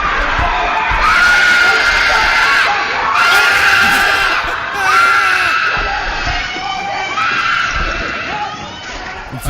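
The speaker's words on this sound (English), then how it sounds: "Listen to this little girl scream. She has the best scream." A little girl screams in high, shrill bursts, several times in a row, over crowd noise and other voices.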